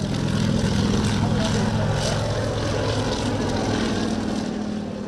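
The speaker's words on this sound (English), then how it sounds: "The Ka-26 has the typical Kamov rotor layout, which means two contra-rotating main rotors and no tail rotor." A Kamov Ka-26 helicopter with two contra-rotating main rotors and a single engine drones loudly at an airshow, a steady dense roar of engine and rotor with no break.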